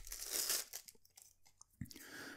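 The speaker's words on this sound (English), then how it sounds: "let me take it out of the plastic bag" A wooden blotter being pulled out of a plastic bag, giving close, brief crinkling and rustling bursts of plastic with short pauses between them.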